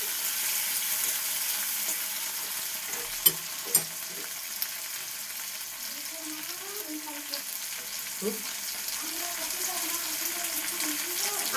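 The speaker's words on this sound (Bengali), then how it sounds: "এবার আমি দিয়ে দিচ্ছি টমেটো। টমেটো দেওয়ার পর ভালো করে একটু নাড়াচাড়া করে দিচ্ছি।" Tomatoes fry in a pan and are stirred, giving a soft, low sizzle with scattered utensil clicks and a faint voice in the background.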